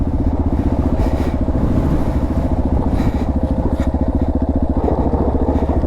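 A dirt bike engine on a 4x4 off-highway vehicle trail heading downhill, a close, steady, throbbing motor that pulses throughout with small revving swells, with no talk.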